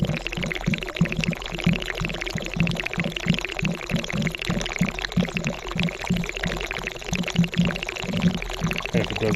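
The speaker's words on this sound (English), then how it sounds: "You gotta be careful when you're pouring cold water into hot stuff like this, because it could actually hit a spot and flare up." Cold water is poured steadily into an overheating engine, a loud, continuous close splashing and gurgling pour with a rapid pulsing texture.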